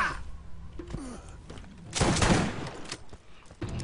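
Shotgun blasts in the Borderlands video game: a few sharp, heavy shots with a dense burst near the middle, mixed with thuds and game noise at moderate loudness, no clear talking.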